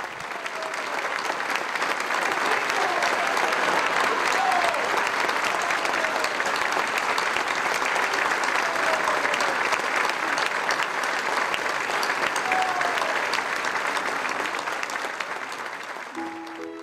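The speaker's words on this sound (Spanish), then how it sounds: "son 60 segundos de ovación que se hacen largos y se hacen de pie." A long standing ovation from a large crowd, rising in and holding as a thick, steady roar of clapping for well over ten seconds before easing slightly at the close.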